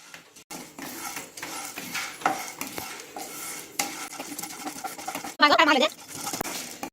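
Chana dal dry-roasting in a pan over a medium flame, with intermittent scraping and rattling as a spoon stirs the lentils, close up, and a louder burst of clattering near the end.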